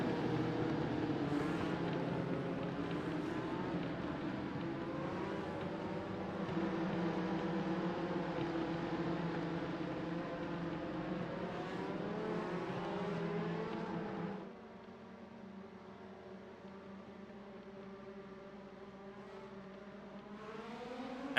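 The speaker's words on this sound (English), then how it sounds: "And it's lights out and away we go for 2 hours of racing here at Daytona" Race cars in iRacing at Daytona roar off the start of a two-hour prototype and GT3 race, a loud dense engine drone with rising revs that drops sharply partway through.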